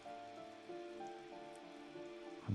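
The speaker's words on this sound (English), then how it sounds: "we hear rain" Rain falling outdoors in the video game Disco Elysium, a steady soft patter on surfaces that runs alone throughout, with low tonal game ambience underneath and a brief louder swell at the very end.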